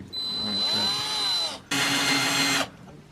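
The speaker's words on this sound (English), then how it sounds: "We'll drill the holes." A power drill boring mounting holes for an NRG race seat in an E46 car, two steady high-pitched whirring runs of about 1.5 and 1 seconds with a short pause between them.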